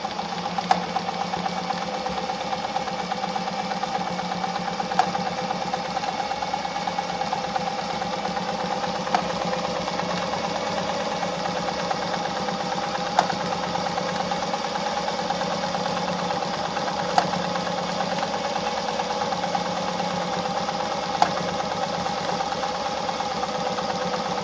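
A Pfaff 260 sewing machine stitches at a steady, even clip, its motor hum and needle rhythm running unbroken and close, with faint periodic ticks and no voices.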